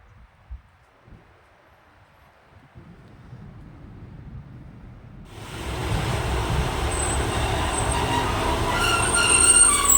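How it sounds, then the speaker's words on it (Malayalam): A passenger train arrives at a UK station: near-silence at first, then a sudden loud swell of rolling wheels and rumble with high wheel squeal as it comes alongside the platform. "അടുത്ത ട്രെയിനും വന്നു കേട്ടോ."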